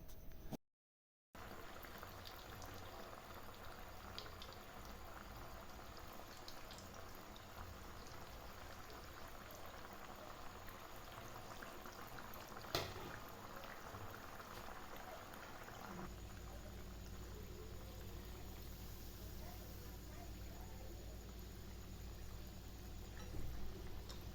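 Cut potato pieces deep-fry in hot oil over a medium flame for crispy potato bites, making a continuous, dense sizzle that stays steady and close throughout, apart from a brief gap near the start, with no talking.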